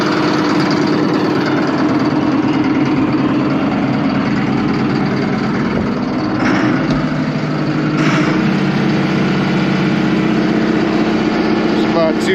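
An Allis Chalmers 7580 tractor engine idles with a newly installed muffler in place of a chrome stack, giving a loud, steady, close-up diesel rumble that holds level throughout with only slight swells.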